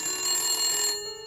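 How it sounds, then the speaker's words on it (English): Telephone in the Nancy Drew game Message in a Haunted Mansion rings with a single loud, close, electronic bell trill that lasts about a second and then stops. "There's a telephone ringing."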